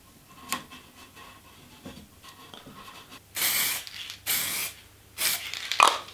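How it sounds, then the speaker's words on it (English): Spray paint hissing over a wooden canoe paddle in a workshop, three close bursts of about half a second to a second each, after quieter scratching and handling sounds. "I'm going to just go over it with spray paint"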